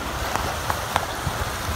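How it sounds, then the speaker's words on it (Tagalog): Big sea waves rolling against a small fishing boat out at sea, a steady wash of surf and water noise with wind buffeting the microphone and a few brief splashes breaking through. "Ang lalaki ng alon"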